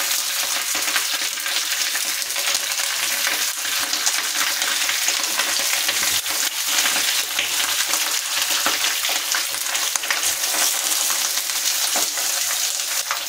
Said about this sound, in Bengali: এভাবে আমরা মাছের একদিকে 5 মিনিট করে ভেজে নেব